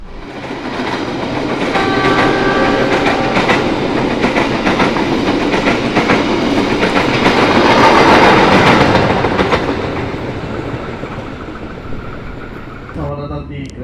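A Jaka Tingkir economy passenger train travels on the Solo–Jakarta line, heard from inside as a loud, continuous rumble with rhythmic wheel clatter, a horn sounding partway through and the noise swelling and then easing off.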